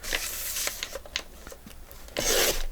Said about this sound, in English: Trim that poem off.